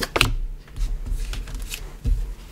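Tarot cards handled and shuffled close up during a reading, giving crisp papery riffles and flicks in a few quick bursts with short pauses between.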